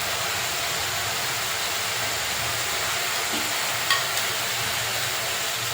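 Tomato paste and ginger paste frying in a pan give off a steady, even sizzle that holds throughout, with a faint clink near the end.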